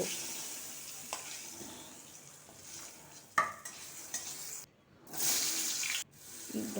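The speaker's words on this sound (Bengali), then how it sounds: "এবারে এই কড়াতেই আবার একটু তেল দিয়ে আলুগুলোকে ভেজে নেব" Potatoes frying in oil in a kadai while being stirred, a low steady sizzle with occasional spatula knocks and a brief dropout before the frying noise resumes.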